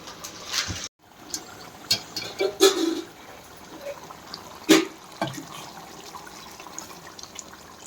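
Hot water splashes and sloshes into a fish curry in short uneven bursts, with a few louder clinks of a pan or utensil, fairly close and with no talking.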